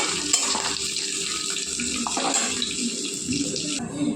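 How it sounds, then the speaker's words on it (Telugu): Mustard seeds, split chana dal, urad dal, and dried and green chilies tempering in hot oil for semiya pulihora, producing a steady, close sizzling crackle that runs continuously throughout. "పోపులు దూరగా వేగాలండి"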